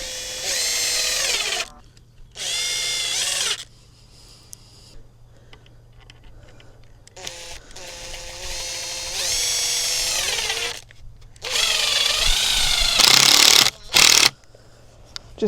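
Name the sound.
power drill driving screws into wood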